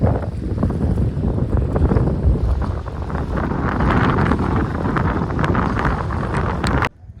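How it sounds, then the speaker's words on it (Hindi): Strong cold wind gusting by the Narmada river with waves rolling like the sea, a loud continuous roar and buffeting on the microphone that cuts off abruptly at the end. "और तेज हवा।"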